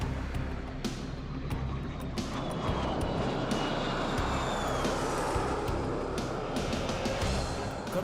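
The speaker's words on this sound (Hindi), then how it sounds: "फ्लाई पास्ट में वायुसेना के 29 लड़ाकू विमान, 8 मालवाहक विमान, 13 हेलीकॉप्टर और एक धरोहर विमान सहित कुल 51 एयरक्राफ्ट दिखाएंगे आकाश में साहसिक करतब।" Military jets roar low overhead in a flypast at India's 2024 Republic Day Parade in New Delhi, a loud, continuous engine rumble that fills the whole stretch with no break.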